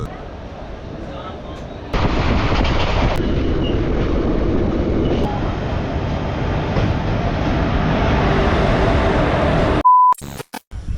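The 13113 Hazarduari Express from Kolkata to Murshidabad runs with a loud continuous rumble and rattle that jumps louder early on, with faint voices mixed in and a short electronic beep near the end.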